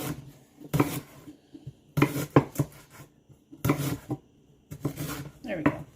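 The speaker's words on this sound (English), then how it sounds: "So I'm just going to slice this all up." A knife slices fresh ginger on a board for pineapple ginger tea, producing four close bursts of crisp chopping and scraping separated by short pauses.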